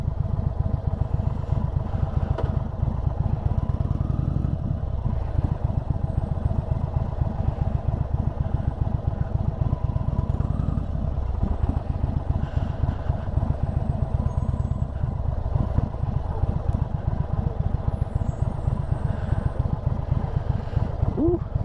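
A 2022 Indian Chief Bobber Dark Horse motorcycle rumbles steadily at low speed in slow traffic on a chilly morning, its deep, even engine pulse continuing loud and unbroken throughout.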